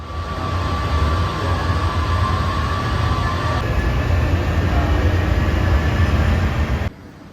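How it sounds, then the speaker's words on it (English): An airport airside shuttle train at Dubai Airport hums and rumbles steadily at close range with a constant whine, then the noise drops abruptly near the end. "you'll need to take a train to the D gate area"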